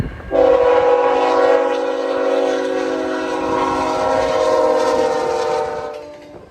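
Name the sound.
intermodal freight train passing with horn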